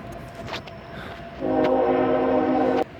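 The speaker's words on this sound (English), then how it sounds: "that's a loud train" A passing train roars nearby at the abandoned Alexandra Bridge, then its horn blares a steady, loud chord for over a second before cutting off.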